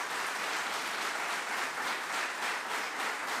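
A crowd at a national meeting of Alzheimer's and dementia caregivers gives sustained applause, a steady, even roar of many hands clapping together with no voices over it.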